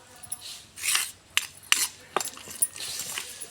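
Coriander and tomato chutney being ground in a stone mortar: irregular scraping strokes and sharp clacks of stone on stone, close by, with short pauses between bursts.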